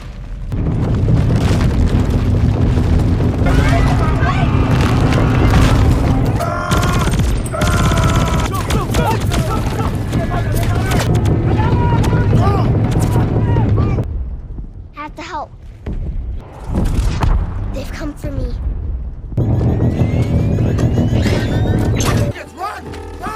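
A film scene of military forces with huge, powerful advanced weapons bombarding an AI settlement, with loud continuous booms, explosions and rattling gunfire that drop briefly before resuming, and a narrating voice running over them.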